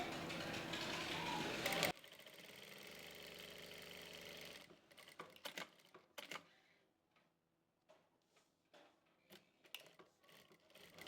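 A sewing machine stitches a kurti neckline in a short burst at first. Quieter clicks and handling taps of cloth and machine follow, sparse and close.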